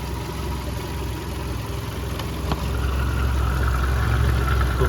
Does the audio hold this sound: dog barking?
no